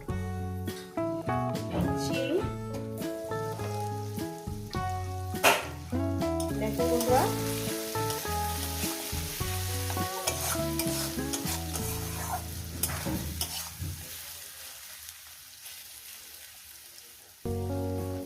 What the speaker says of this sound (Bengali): চাপা দিয়ে দিয়ে ভাইয়ে করলে কষলে টমেটোটা সফট হয়ে যাবে আমার মশলাটাও কষানো হয়ে যাবে